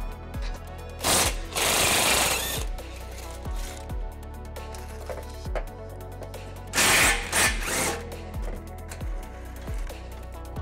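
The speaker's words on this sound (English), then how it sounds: "We're gonna be using an 18 millimeter socket to take those off." An impact wrench spins off 18 mm bumper beam nuts on a 2017 Mercedes GLC 300, two loud rattling bursts of whirring separated by quieter clicking and handling noises, close up.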